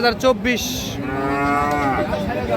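A Friesian or crossbred bull or calf at a weekly cattle market in Dinajpur lets out a loud, close, drawn-out moo after a couple of short grunts.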